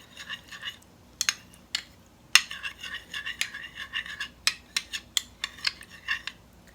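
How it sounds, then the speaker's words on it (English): A spoon stirs a cornstarch and water slurry in a small dish, giving a series of sharp, close scraping clinks in an irregular rhythm with no talking. "Mix up our slurry."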